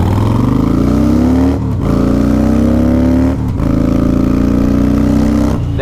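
A Harley-Davidson Fat Boy motorcycle accelerates up to the speed limit, its engine rising in pitch through three gears with two brief gaps at the shifts, loud and close with no talk.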